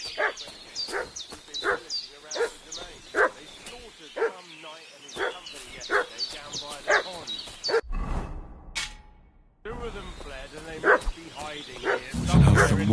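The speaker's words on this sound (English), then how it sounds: "What's that dog making such a fuss about?" A dog in Kingdom Come Deliverance II barks and whimpers repeatedly in a medieval village, close, agitated and rhythmic, with talk over it and a brief gap of other noise near the end.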